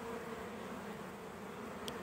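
Italian honey bees buzz softly while being hived, a faint continuous droning hum close by with no voices over it.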